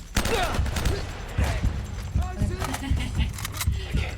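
Gunfire in the Uncharted video game, a rapid burst of sharp shots and impacts layered with game effects, loud and close, while a player talks over the action.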